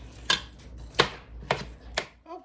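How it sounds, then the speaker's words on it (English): A utensil chopping up 90% lean ground beef browning in a pan, four distinct scraping knocks spaced about half a second apart, close and clear with no talk. "I'm just going to chop that all up and let that brown."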